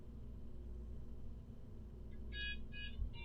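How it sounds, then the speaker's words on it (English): A mobile phone rings with short repeated electronic tone bursts that start partway through, sitting over a steady low hum from a Kerbal Space Program game session. "Oh, my phone is ringing."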